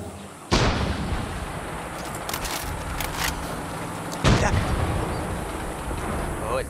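Gunfire in the video game Far Cry 6 on a farm: two loud booming shots a few seconds apart, each with a rumbling tail, over constant background game noise while a voice talks.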